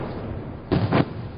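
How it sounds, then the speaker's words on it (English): Ceremonial salute cannons fire at a national celebration flag-raising, two heavy booms in quick succession heard from a distance, each with a short rumbling tail, over a low background murmur. "cannons firing"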